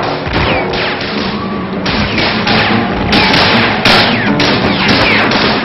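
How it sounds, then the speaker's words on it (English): Gunfire breaks out near Notre Dame during the 1944 Liberation of Paris parade, a dense, continuous run of sharp cracks and thuds over a loud, constant crowd and street roar in an old archival recording. "When the parade reached Notre Dame, again there was gunfire."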